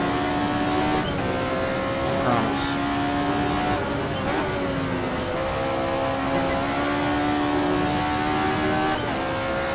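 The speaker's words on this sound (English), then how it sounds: "It's a D1 GP car." A D1 GP race car's engine drones steadily throughout a lap of Laguna Seca in a racing video game, its pitch rising and dipping through gear changes, with a brief spoken phrase over it.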